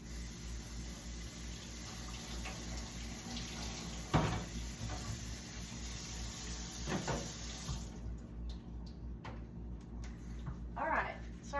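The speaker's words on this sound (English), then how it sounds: "these need to be rinsed. Let's just rinse them real quick." Tap water runs steadily into a kitchen sink while tomatoes are rinsed, a soft continuous splashing with a few sharper splashes, heard quietly under a speaking voice before cutting off.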